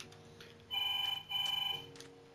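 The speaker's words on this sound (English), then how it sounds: "Sorry for my phone going off right now." A mobile phone rings with two trilling electronic bursts in quick succession, steady and moderately loud over quiet background game sounds.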